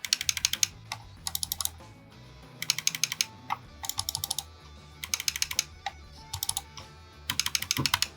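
Sharp, close clicks from Razer and Roccat Burst Pro gaming mice come in quick bursts of several rapid presses, separated by short pauses over a faint background hum.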